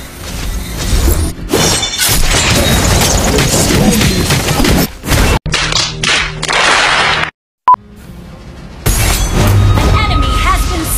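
In Mobile Legends, a turret is destroyed amid busy game combat, with whip-like cracks, crashing impacts and bursts of explosion noise. Announcer voice lines play over the loud, dense action, which breaks off briefly before resuming.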